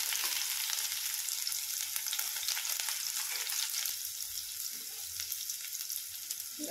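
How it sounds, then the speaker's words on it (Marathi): Onion sizzles and fries in hot oil seasoned with mustard seeds, a steady close crackling hiss with occasional stirring, no voices over it. "कांदा टाकते."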